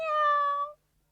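A single cat meows once in a clear, drawn-out call from an old radio programme, fading out after under a second.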